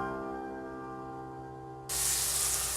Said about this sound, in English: I got the butter. I guess that goes over here in this hot pan.